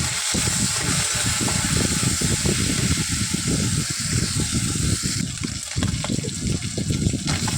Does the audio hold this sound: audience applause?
no